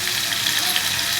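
Chicken skin pieces frying with onions in a pan give a steady, close sizzle with no talking.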